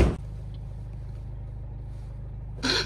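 A van droning along a road on the way to Exeter, a steady low interior rumble from inside the cab, with short louder bursts of noise at the start and end.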